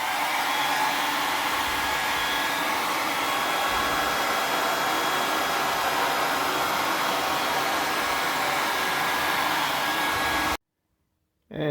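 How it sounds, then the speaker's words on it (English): A standard hair dryer blows continuously to dry out the channel of a leaking linear bathroom drain during repair, a loud steady whooshing roar that runs for about ten seconds, then cuts off abruptly into silence before briefly restarting. "I will be using standard hair dryer to dry out the"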